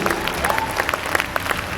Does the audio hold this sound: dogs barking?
no